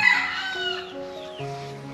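A large rooster crows loudly and close by at a rural hillside home with no water or electricity, its strained call stretching across the moment with faint clucking of fowl around it.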